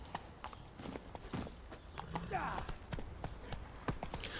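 The horse Roach trots along in the video game The Witcher 3, with a steady rhythm of close hoof clip-clops. Game sounds and a short whinny-like cry are also heard, and someone speaks briefly.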